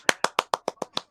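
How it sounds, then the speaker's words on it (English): Eight quick, sharp hand claps in an even, brisk rhythm, close and crisp with brief silence between each. "Clapping."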